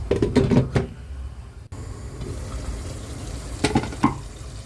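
Lemon in a little water in a pan, cooking for a Bengali fish dish, gives a soft bubbling and hissing, with clattering stirring and a lid knock near the start and end.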